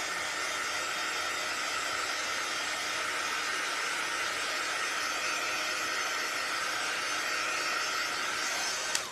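Hair dryer blowing steadily on a board at close range, a loud, even whirring hiss that holds for several seconds before cutting off with a click.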